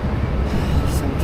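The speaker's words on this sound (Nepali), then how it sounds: "यो चाहिँ ट्रेन" A train rumbling at a Sydney station, a short burst of low mechanical rumble with a brief hiss of air near the end.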